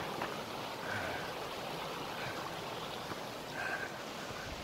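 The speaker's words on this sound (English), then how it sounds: "This lovely creek flowing down here beside me." A creek flows through woods beside a hiking trail in Colorado's Collegiate Peaks near Mount Columbia, making a steady broadband rush of water that stays even and close throughout, with no voices.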